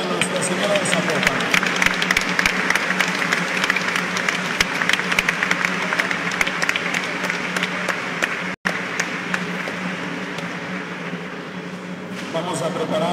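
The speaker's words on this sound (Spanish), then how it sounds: "Vamos a darle un fuerte aplauso en general a Nuestra Señora de Zapopan." Crowd applause during a religious procession for Our Lady of Zapopan arriving at Sagrada Familia in the rain, steady dense clapping filling the whole stretch with a brief dropout near the end.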